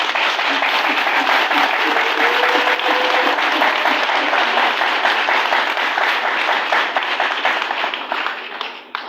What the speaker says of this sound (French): Je vous prie d'acclamer frénétiquement nos candidats à tous les échelons